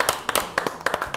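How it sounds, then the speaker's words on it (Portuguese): Someone in a sports-debate studio gives a short round of applause: about half a dozen crisp, close claps in an uneven rhythm, with little else around them. "Deixa eu dar uma salva de palmas pro Léo na Geral."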